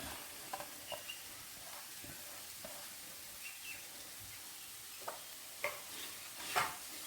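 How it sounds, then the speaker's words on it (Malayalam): Snake gourd and grated coconut being stirred in a pan for a Kerala thoran, with soft, sparse spatula scrapes and clicks over a faint sizzle that builds to a few sharper strokes near the end. "എല്ലാം കൂടെ ആദ്യം ഒന്ന് നന്നായിട്ട് മിക്സ് ചെയ്യാം തേങ്ങയും ഇതൊക്കെ കൂടി ഒന്ന് നന്നായി മിക്സ് ചെയ്ത് വന്നോട്ടെ"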